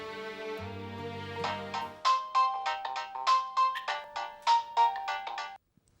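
A phone ringtone plays a repeating melodic chime in short pulses over a low background tone, fairly loud and close, stopping abruptly near the end.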